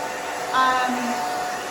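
A blow dryer hisses steadily and close while a comb works back and forth through a pixie haircut, and a voice talks briefly over the airflow.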